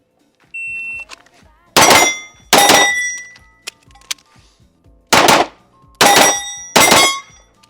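Pistol shots from an Archon Type B during a timed shooting drill, loud, close and sharp, fired in quick pairs and strings with short pauses between, a beep sounding near the start.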